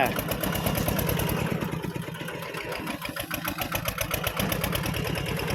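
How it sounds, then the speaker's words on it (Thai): A modified farm tractor's mid-pitched engine runs steadily with a fast, rough pulsing, rising slightly as it's revved, close by and loud throughout. "เร่งเครื่องนิดนึง"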